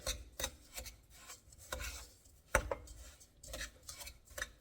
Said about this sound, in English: I got the spoon right here. Mix this up together.